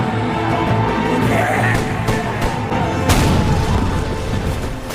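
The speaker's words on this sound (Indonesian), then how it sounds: "Namun meriam didentumkan, jembatan pun hancur." Deep booming cannon blasts and crackling bursts roll through a dense, rumbling battle din as a bridge is destroyed, with sharp reports near the two- and three-second marks.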